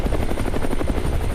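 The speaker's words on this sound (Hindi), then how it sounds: "हेलीकॉप्टर तेजी के साथ ऊपर उठा" A helicopter sound effect climbs with loud, steady rotor chopping, a rapid rhythmic thumping that fills the short stretch without any voices.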